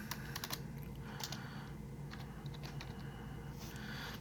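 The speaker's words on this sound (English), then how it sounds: "that me typing on the keyboard" Someone types on a computer keyboard nearby at a quiet level, with irregular bursts of soft key clicks and brief pauses between them, and no talk.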